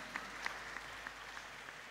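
A church congregation at a Kikuyu-language Sunday service at PCEA Thika Town Church claps for its chairman, soft steady applause from a distant crowd with a few sharper claps standing out, no talking over it.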